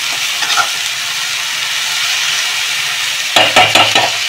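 Kalmi greens with shrimp and spices stirred and frying in a pan, a steady close sizzle with spatula scrapes and clatter near the end.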